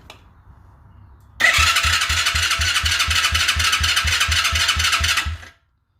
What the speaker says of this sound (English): Let's give it a couple cranks and see